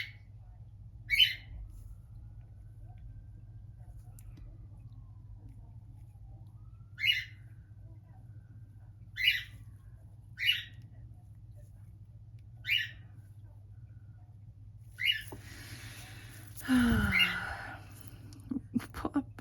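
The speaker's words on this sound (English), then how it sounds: "I bet you're all awake now with Mabel shouting again" A pet bird gives short, sharp squawks at irregular intervals, fairly faint and a little distant over a steady low indoor hum, ending with a louder, noisier burst.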